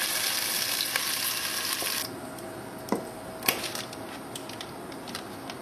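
Beef pieces browning in a hot pan for boeuf bourguignon, giving a steady broadband sizzle that quiets partway through, with a few scattered clicks and taps of utensils.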